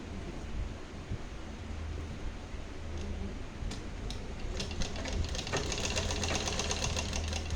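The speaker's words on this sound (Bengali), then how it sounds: "আপনাকে বোঝাচ্ছি সেলাই করে করে দেখাচ্ছি" A sewing machine stitching along the border of a plain sari cloth runs in a steady, close mechanical hum and rattle that grows busier and more clattery toward the end.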